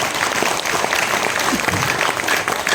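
Audience applause at an all-India Hindi kavi sammelan poetry gathering, a steady wash of clapping from a crowd filling the short stretch, with some voices mixed in.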